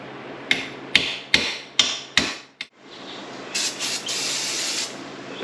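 A seal driver pounds a seal into a Falcon late model racing transmission with five sharp, evenly spaced hammer strikes, then a hissing spray of brake cleaner follows in short bursts.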